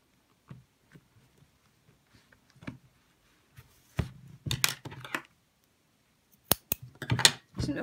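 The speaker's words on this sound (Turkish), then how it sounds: "Kalan ipi de keseceğim." Scissors snip through leftover cotton jersey (penye) cord on a handmade shoulder bag, giving a few sharp, close clicks and short cuts in two clusters after light handling taps.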